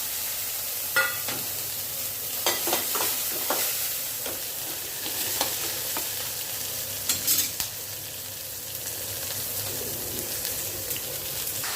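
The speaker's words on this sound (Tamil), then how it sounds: "அகத்துக்கீரை பொரியலுக்கு வெங்காயம், கடுகு, சீரகம் எல்லாம் தாளிச்சுட்டு அகத்துக்கீரை வதக்கிட்டுருக்கேன்" Agathi greens sauté in a pan with onion, mustard seeds and cumin, giving a continuous close sizzle broken by occasional scraping stir strokes. No one speaks.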